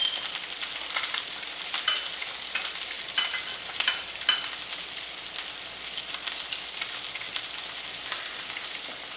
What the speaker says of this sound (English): want to make sure that as you're browning it, that it's not raw inside